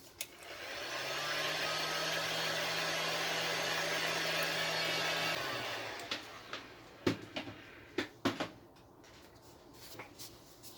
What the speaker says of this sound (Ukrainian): ми е, приберемо невеличкі шарахуватості за рахунок обичного промислового фену